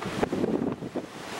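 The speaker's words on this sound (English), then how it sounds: "It's a tad windy" Gusty wind aboard the Queen Mary 2 on a transatlantic crossing buffets the microphone with low rumbling bursts, rising and falling over a second and a half, with no voices present.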